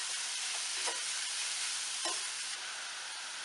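Grated radish with ginger sautéing in a pan, giving a steady close sizzling hiss with a couple of brief scraping stirs, and no one talking.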